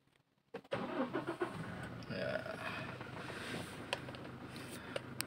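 A 2017 Toyota Innova Venturer 2.4 diesel cranks and fires after a brief silence, then settles into a clattering idle, close and steady, with a few sharp clicks toward the end.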